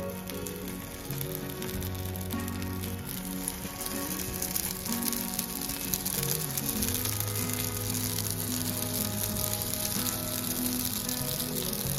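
Dosa batter poured onto a hot pan for cheese dosa cups hisses in a steady, even sizzle that carries on for the whole stretch, close and moderately loud, while faint background music plays.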